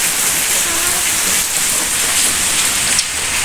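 Dense, loud outdoor rain hits surfaces close by in a steady wash of patter with no letup, and a faint voice can be heard beneath the downpour.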